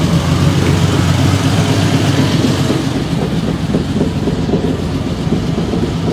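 Engine idling steadily at roughly 1,000 RPM in a first run, before any mixture has been set, a constant low rumble that carries through the whole stretch with no voices.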